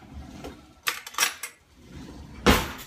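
A spoon scrapes cubed food from its shell into a container in a few short scraping, clinking strokes, with a louder final scoop near the end.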